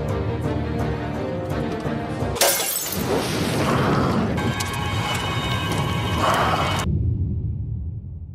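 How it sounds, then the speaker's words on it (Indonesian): Glass of a lantern shatters with a sudden bright crash, followed by a dense burst of scattering shards and crackling, loud and close over a continuous music and ambience bed. "Begitu kaca lentera pecah, api langsung menyambar dan membesar menelan makhluk itu dalam kobaran api."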